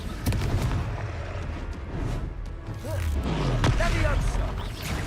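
Confringo fire spell explosions from a Hogwarts Legacy battle, a sharp burst near the start followed by a second heavy boom with a rumbling swell later, layered over game music and other combat noise.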